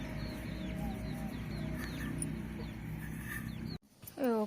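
Chickens on a farm garden cluck in a steady, continuous background under a constant low hum, with scattered short calls, before the scene cuts to a louder burst near the end.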